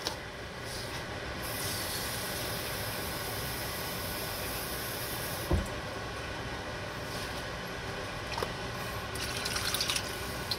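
Water runs and splashes steadily into a pot to cover beef short ribs, a continuous pouring sound with a brief clunk midway and slight clatter near the end.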